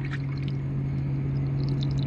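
Water pouring out of a truck's diesel tank, a steady continuous splashing gush with a low engine-like hum underneath, close and constant.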